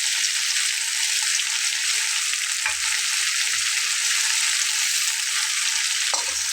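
Spice paste and ground dried fish frying in a pan, a steady loud sizzle close by that hardly changes, with a couple of faint knocks and no voices.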